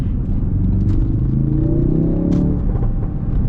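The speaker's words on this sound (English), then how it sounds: "It just sounds like any other four-banger." A four-cylinder engine in a Ford Focus RS or Honda Civic Type R sports car runs steadily as a loud, continuous low rumble with a brief rising rev in the middle, heard from close by with no talking.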